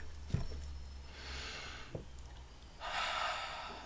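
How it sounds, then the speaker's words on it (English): A person takes slow deep breaths, with a couple of sharp sniffing intakes followed by long airy inhales and exhales, close and clear with no talking. "let's take a deep breath"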